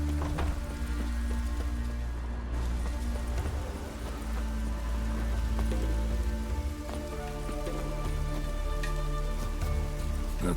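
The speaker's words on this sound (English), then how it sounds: "Oh, raining again." Steady rain falls in The Witcher 3, a dense continuous patter over a low rumbling ambience, with occasional hoof-like clops and faint background sounds mixed in at a constant loud level.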